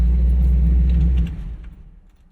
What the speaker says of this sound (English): All right, back in the park here and shut her off.